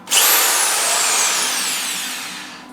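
Power drill boring into wood for bonsai staging: the motor spins up sharply with a high whine, then drones on steadily as the bit cuts, slowly easing off, close up with no voices.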